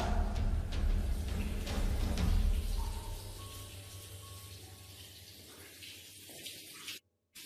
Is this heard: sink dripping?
yes